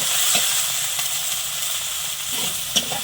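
Onion and okra fry in hot oil with turmeric and chili powder, a close, continuous sizzle and hiss with a few soft stirring scrapes.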